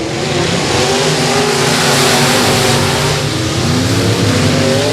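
Race cars at Boothill Speedway accelerate at a restart in a loud, continuous roar, with several engines revving and rising in pitch together at close range.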